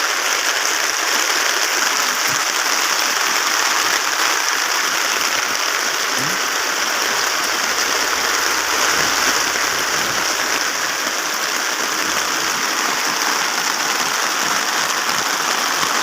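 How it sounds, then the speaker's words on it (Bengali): Heavy rain pours steadily over a flooded pigeon house, a dense, constant hiss of water falling on surfaces with no break across the whole stretch. "এত বৃষ্টি হচ্ছে"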